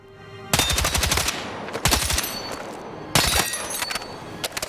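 TR-7 Tavor rifle shots in the video game Battlefield 6 at close range come as three sharp bursts of rapid fire. Each burst rings out loudly and clearly, and there is no talk.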